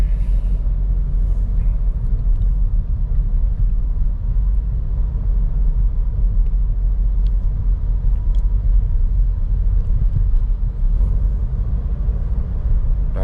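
A 2024 Toyota Veloz with a CVT gearbox cruises on the road at about 65 km/h, heard from inside as a steady, loud low rumble of tyres and engine with no breaks.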